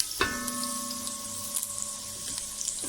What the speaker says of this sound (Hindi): इसको आप थोड़ा सा चला लीजिए और लहसुन को हल्का सा गोल्डन कर लीजिए